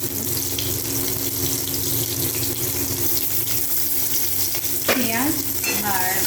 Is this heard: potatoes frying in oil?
yes